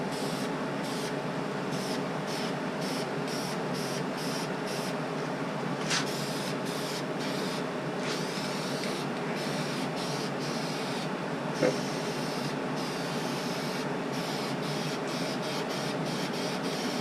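Black spray paint laid in coats onto a carbon fiber intake: a continuous close aerosol hiss broken into short rhythmic bursts as the nozzle is pressed and released, with no talking.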